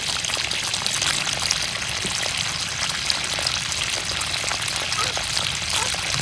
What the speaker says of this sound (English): Water started going down that hole right there.